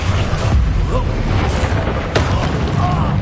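Confringo and Incendio spells fire off in a Hogwarts-style video game battle, giving low booming blasts and fiery rumble with a sharp crack partway through, while voices speak over the action.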